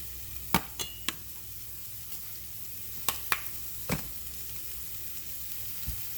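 Sliced onions and peppers sweat in a pan, giving a soft, steady sizzle close by, punctuated by several sharp clinks and taps of a utensil on the pan, with no voices.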